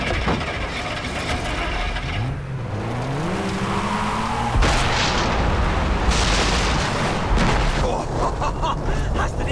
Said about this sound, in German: Hast du die Explosion gesehen?